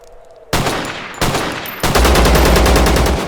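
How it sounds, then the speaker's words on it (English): Gunfire at Lazar in the video game ZERO Sievert: loud, close shots in quick bursts, ending in a rapid automatic string of rhythmic reports. "those were some good shots on Lazar that might have actually hurt him pretty good"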